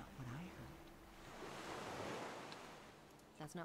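Gentle harbor waves wash in a steady, soft hiss in Gothic 2's port town, faint and wind-like, with brief voices at the start and end.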